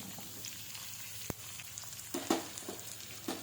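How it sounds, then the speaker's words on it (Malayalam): Chopped onion stirred into hot oil in a pan while cooking a Kerala banana-flower thoran, with faint frying crackle, a sharp utensil clink and a few scraping stirs, no talking. "കുറച്ച് സവാള അരിഞ്ഞത് ചേർത്ത് കൊടുക്കാം. നല്ലപോലെ ഇളക്കി യോജിപ്പിക്കുക."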